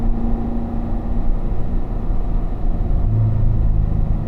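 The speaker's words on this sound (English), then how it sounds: "Squeeze the throttle and up to fourth." A car engine rumbling steadily as the throttle is squeezed during an upshift to fourth gear, a heavy, close, low drone that shifts slightly in pitch near the end.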